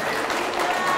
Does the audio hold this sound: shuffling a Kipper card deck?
no